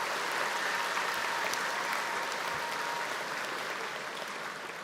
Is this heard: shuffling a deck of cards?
no